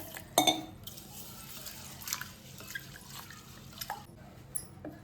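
Yellow moong dal and rice being rinsed in water: soft intermittent drips and splashes, quiet and close, with small sloshing bursts spread across the clip and no talking.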